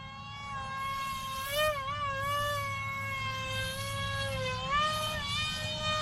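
An FT Mini Vector RC jet's electric motor whines at about half throttle in aerobatic flight, a tonal buzz that rises and dips in pitch as the plane passes, moderately loud and steady.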